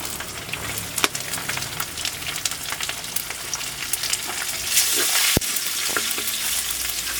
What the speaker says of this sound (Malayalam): അപ്പൊ നമ്മൾ വെളുത്തുള്ളി ഇട്ട് കൊടുക്കുക മൂന്ന് കുടം വെളുത്തുള്ളിയാണ് നമ്മൾ ഇട്ട് കൊടുക്കുന്നത്